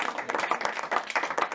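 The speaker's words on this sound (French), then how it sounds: "on vous applaudit parce que vous méritez." Applause at a Christmas gift-bag distribution in Paris, a short burst of steady hand clapping from a small group, close and fairly loud.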